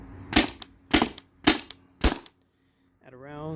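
A Tippmann TiPX paintball pistol fires four sharp, loud shots in quick succession on CO2. A brief voice follows after a short silence.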